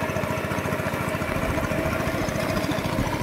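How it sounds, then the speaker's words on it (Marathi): A tractor engine runs steadily in a flooded rice field during the monsoon, a loud, continuous low throbbing drone close by with no pauses and no voices. "त्यामुळे ट्रॅक्टरचा वापर केला जातो आता."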